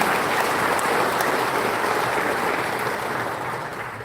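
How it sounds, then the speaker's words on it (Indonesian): A crowd applauds at a political declaration event in Indonesia, a broad, sustained roar of many hands that holds steady and then gradually fades toward the end, with no speech over it. "Dari Go Anies, tepuk tangan untuk teman-teman."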